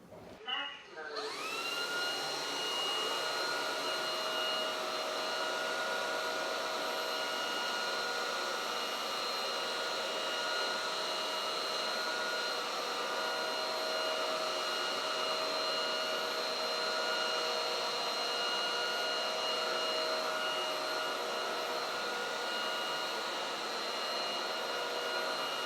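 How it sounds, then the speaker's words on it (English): A Roborock Dyad Pro wet vacuum cleaner whines steadily on a floor after starting up, a continuous high-pitched motor drone that runs without pause, fairly close. "We're gonna use the wet vacuum and see how it feels like after it's done."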